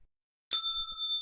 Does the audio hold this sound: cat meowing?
no